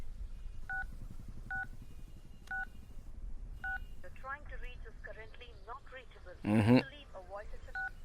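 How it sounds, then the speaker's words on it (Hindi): Several evenly spaced telephone keypad tones beep near, followed by people talking and a short burst of noise, then another tone. "अनिल को फोन कर।"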